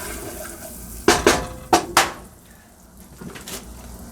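Onions being stirred in a pot for chicken borscht: four quick spoon scrapes and knocks against the metal pot in the middle, with quiet kitchen background around them.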